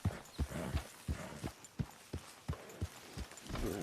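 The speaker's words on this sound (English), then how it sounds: "that's one nice-looking horse you got there" Horse hooves clip-clop in the Western video game Red Dead Redemption 2, a steady walking rhythm of close, distinct hoof strikes with soft ambient background and no talking.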